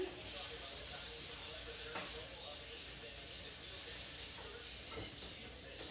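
Onions stirred in a wok over high heat, a faint continuous sizzle and hiss with occasional scraping taps.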